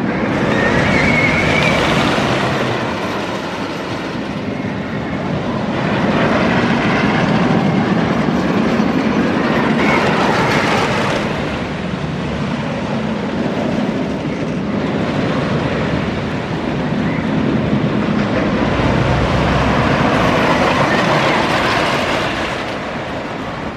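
Roar wooden roller coaster train at Six Flags America rattling and vibrating along its track, a loud continuous clattering rumble that swells and eases in waves, heard up close from on board with no talking.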